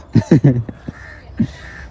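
A crow caws outdoors: three harsh calls in quick succession, then a single caw about a second later, moderately close and clear with no talking.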